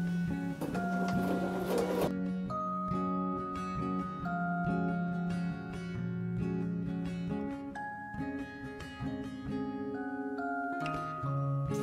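A home sewing machine stitches quilt fabric strips together for a Bargello patchwork quilt, its motor whirring in steady bursts that shift pitch as the speed changes, close by and with no one talking.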